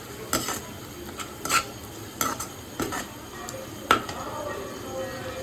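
Spoon stirring pabda fish curry seasoned with turmeric, Kashmiri chili and salt in a pan, giving a handful of scattered scraping clinks over a faint sizzle.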